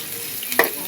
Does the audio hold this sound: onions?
yes